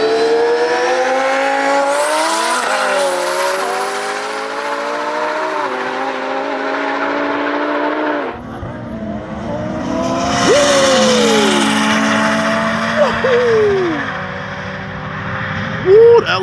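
A twin-turbo Lamborghini Huracan racing a McLaren 720S: a loud, sustained engine roar climbing through the revs, a sharp break and shift midway, then renewed hard acceleration with whining, rising tones near the end.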